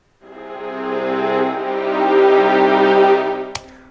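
A sustained, muted sordino string ensemble chord, thinned by heavy band-pass EQ so it sounds distant and lo-fi, swells in gently and holds before a brief click near the end.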